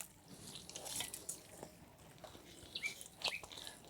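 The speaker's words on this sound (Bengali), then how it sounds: "মিক্সি ধোয়া জলটা নিয়ে নিচ্ছি অল্প অল্প জল দিচ্ছি" Rinse water from a mixer jar, left over from grinding rice, trickles in small splashes and drips into a rice batter for palm fritters, steady and close with a few sharper splashes near the end.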